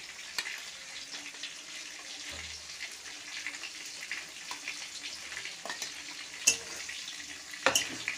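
Potatoes frying in a cooked-down spice paste for a rohu fish dish, with a steady soft sizzle and a few sharper scraping stirs near the end, no voices.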